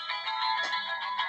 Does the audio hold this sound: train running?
no